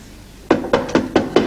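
Five sharp knocks on a door, evenly spaced and close, ringing out loudly in a quiet room with no voices.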